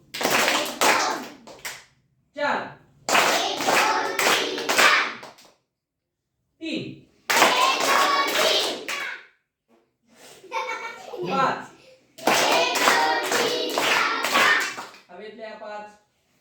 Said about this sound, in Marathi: मी म्हणतो तेवढ्या टाळ्या वाजवा